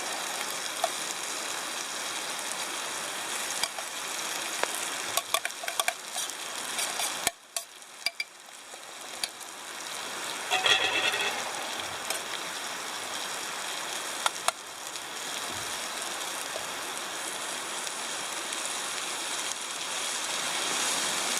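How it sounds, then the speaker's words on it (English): Hash browns and sausage frying in a skillet, a steady broadband sizzle with crackling pops running throughout, dipping briefly in loudness partway through before resuming at a constant level. "Next part of my plan, throw in the hash browns."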